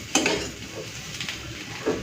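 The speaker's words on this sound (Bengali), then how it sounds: "প্রথমেই না একটুখানি সয়াবিনটাকে ভেজে নিচ্ছি।" Soybean chunks frying in a pan give a soft continuous sizzle, with a few light spatula scrapes and clinks against the metal and no voices.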